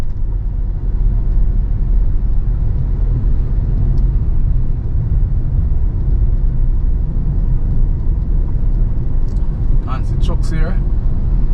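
Low, steady rumble of trucks and heavy equipment working at a dump site, a continuous engine drone from nearby, with a person talking over it.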